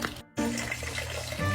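Water pours steadily as someone bathes, a close, continuous rushing splash broken by a short silent gap near the start, with no talking.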